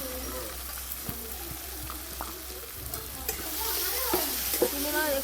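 Boiled green peas stirred into a spice paste frying in a pan, a steady close sizzle with scraping and stirring strokes that grow busier toward the end.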